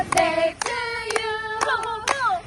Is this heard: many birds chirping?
no